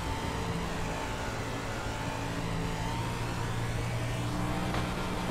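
A 305 sprint car engine in an iRacing dirt oval race at Eldora Speedway, a dense, steady high-revving roar holding constant throughout with slight pitch wavers.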